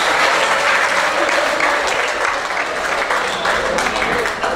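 A crowd at a family anniversary celebration for a student tuna music group gives warm applause, dense and loud, continuing steadily for several seconds and thinning slightly toward the end.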